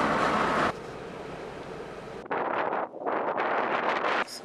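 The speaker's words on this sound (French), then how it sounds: "il y a du vent" Wind blows hard outdoors near Pink Lake, buffeting the microphone in loud, roaring gusts that surge, drop briefly and swell again, with no voices.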